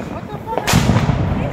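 A Fourth of July firework bursting near a pole, a single sharp close bang followed by a rumbling roar, with people talking and shouting around it.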